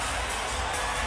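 A large boxing arena crowd roars and cheers for Manny Pacquiao after the fight, a dense, steady wash of distant voices with no single shout standing out.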